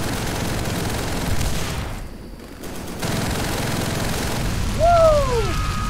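Sustained gunfire from a World War II battle in the Call of Duty: World at War game, a dense continuous fusillade with booming shots, a brief lull midway and shouting voices near the end.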